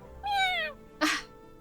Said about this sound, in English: A kitten with a stubby tail squeezes in through my window.